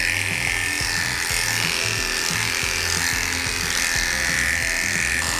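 Electric clippers buzz steadily and loudly up close while grooming a Toy Poodle's back leg, a continuous bright motor whine with slight rhythmic variation from the strokes, no talking.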